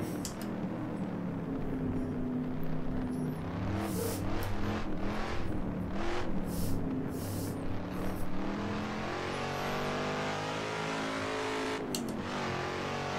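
Muscle car engine accelerating on a hill climb, a loud close-up roar with rising and falling pitch as revs build and gears change, punctuated by sharp bursts and a tire squeal.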